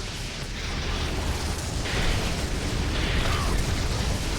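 Rocket launcher explosions in Doom 3, a continuous rumbling blast with booming low end and bursts of debris, fairly loud and sustained across the whole stretch.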